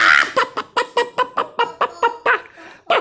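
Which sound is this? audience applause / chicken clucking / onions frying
chicken clucking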